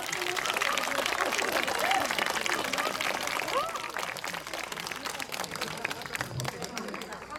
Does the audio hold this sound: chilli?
no